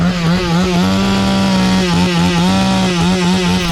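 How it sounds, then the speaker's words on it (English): A chainsaw engine drones loudly and close at a WRC rally event in Portugal, holding a steady buzzing pitch with slight wavers as it runs without pause. "just when it goes quiet, another chainsaw fires up."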